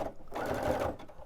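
A Baby Lock Brilliant sewing machine stitches a baby onesie, giving a short, steady mechanical whir with rapid needle chatter, close up and lasting about a second.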